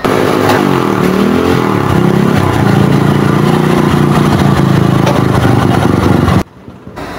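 A motorcycle with a fault that keeps it sputtering and stops it revving past 6000 rpm runs loud and close with a steady, slightly uneven drone, then cuts off abruptly near the end.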